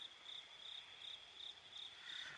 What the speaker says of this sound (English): they have this like cracking sound. And I think that's what the call that these frogs are making